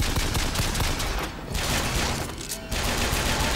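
Dense, continuous gunfire in the first-person shooter Bioshock Infinite, with loud overlapping shots forming a near-constant barrage that briefly dips twice before resuming.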